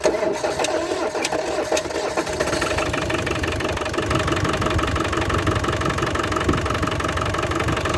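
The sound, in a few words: Land Rover diesel engine starting and idling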